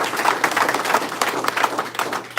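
A room at a town of Sparta press conference breaks into applause for the former mayor, with dense, lively clapping from a small crowd, fairly close and continuous.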